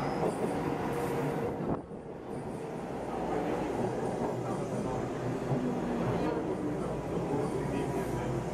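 A subway train rumbles steadily through Coxwell station in Toronto, with a low continuous roar and hiss, a brief dip partway, and voices faintly audible beneath.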